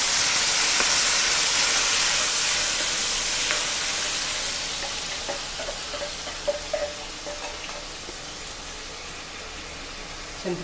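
Tamarind water poured into a hot pan of sizzling tempering with dried red chillies and lentils, a loud broad hiss that gradually settles into softer bubbling with small pops and crackles.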